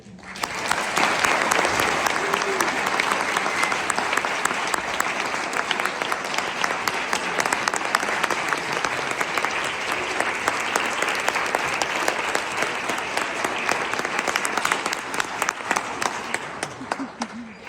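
Sustained audience applause at a Veterans Day program at Parkview Christian School, welcoming Lieutenant Colonel Dannie J. Tindle, steady dense clapping from a large crowd that holds evenly for many seconds before tapering.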